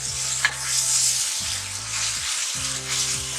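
Masala of yogurt, tomato and green chillies frying in a pan, a steady bright sizzle with occasional stirring, close and alone without talk.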